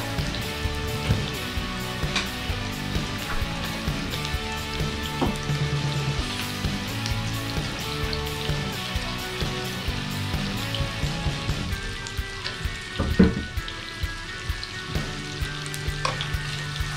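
Squid mouth frying in a pan with oyster sauce, mushroom and onion, a steady close sizzle with stirring clatter running throughout, one sharper clank near the end.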